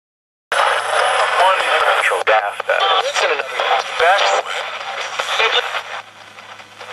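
Loud, continuous radio static and hiss with warbling tones as the AM dial sweeps, and fragments of voices breaking through the noise.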